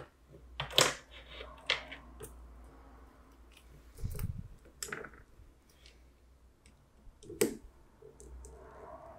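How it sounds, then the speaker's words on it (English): Small metallic clicks and taps as a flathead screwdriver drives screws out of a Bulova 98P182 watch bracelet, scattered sparse sounds close up and quiet, with a faint scrape in the middle. "use a flathead screwdriver to drive the screws out"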